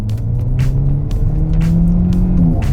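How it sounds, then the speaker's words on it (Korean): A car on winter tires pulls away smoothly from standstill toward 40 km/h during a tire test, its engine note climbing steadily in a continuous, fairly loud hum with no talking. "정지 상태에서 부드럽게 가속을 하고요"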